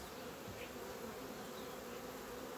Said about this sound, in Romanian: aceasta este o albină neagră